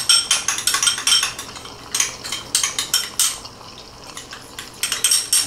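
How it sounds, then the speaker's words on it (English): A sauce with a little sriracha being stirred in a dish, bursts of bright utensil clinks and scrapes in quick uneven rhythm with short pauses between, close and fairly loud, no voices. "And just stir that up."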